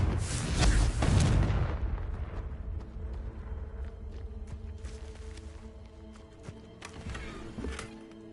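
A Confringo spell detonates in Hogwarts Legacy with a loud booming blast, its rumble decaying over the next seconds into scattered crackling and debris-like clatter, with lower game ambience continuing underneath.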